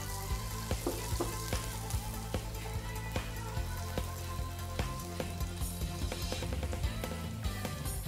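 Pork for Bicol Express sizzles and crackles steadily in a hot pan, a loud, continuous fry with scattered pops and occasional stirring clinks throughout.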